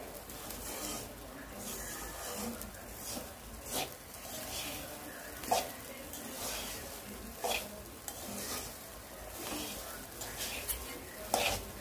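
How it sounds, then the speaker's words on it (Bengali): Rice being fried hard in a pan, soft sizzling under repeated scraping stirs that come in irregular bursts, close and fairly quiet. "তো যে চালটা কিন্তু খুব কড়া করে ভেজে ফেলছে।"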